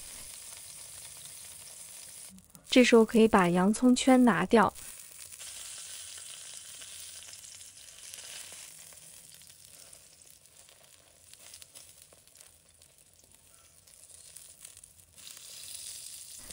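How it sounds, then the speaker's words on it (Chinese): An egg sizzling in a pan over medium-low heat, a steady faint frying hiss under a brief spoken line near the start, continuing quietly to the end. "然后翻面，再煎另一面"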